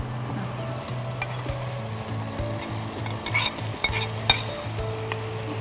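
Onions stirred in a pan for shing fish do-peyaja: a steady frying sizzle with scattered utensil scrapes and clinks against the pan, busiest in the middle, over a low continuous hum, close by.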